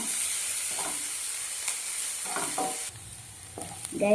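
Chopped onions sauté in hot oil in a frying pan, giving a steady close sizzle broken by several scraping stirs of a spatula, with no one talking.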